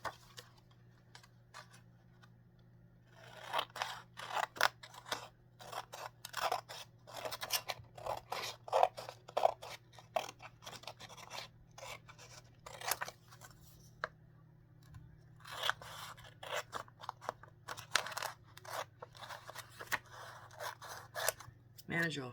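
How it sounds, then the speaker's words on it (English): Scissors snip through paperwork at 3 a.m. in a quiet room, a steady run of close, crisp cuts after a silent start, then a pause near fifteen seconds before cutting resumes over a low constant hum. "I'm going to cut our paperwork into manageable"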